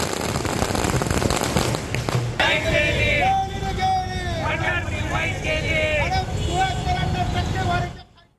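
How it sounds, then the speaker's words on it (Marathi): Rapid crackling bursts of firecrackers pop loudly at first at a municipal corporation gate, then continue under a busy crowd and voices nearby. "पालिकेच्या गेटवरती फटाके फोडण्यात आले"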